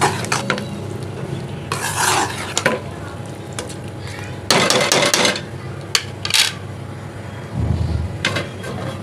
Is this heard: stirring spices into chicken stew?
yes